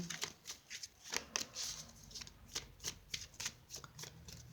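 Tarot cards being shuffled for a reading, a steady run of crisp riffling and slapping bursts repeating throughout at close range, with no talking.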